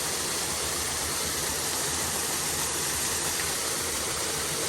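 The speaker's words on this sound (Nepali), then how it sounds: "झर्ना हेर्नु" A waterfall in a mountain stream rushes in a dense, constant broadband wash of falling water, with no voices.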